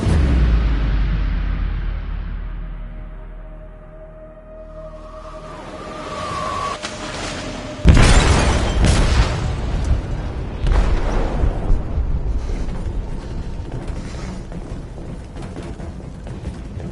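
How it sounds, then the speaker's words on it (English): An explosive detonates in a ship's hold in the video game Detroit. A low rumble fades, then a sudden loud blast hits and is followed by a long crackling, roaring tail of debris and collapse. "They detonated an explosive in the hold."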